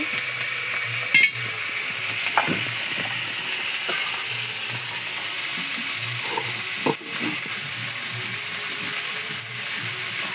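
Fish frying in a pan, a loud, steady, close sizzle with occasional sharp clicks and scrapes from the spatula or pan.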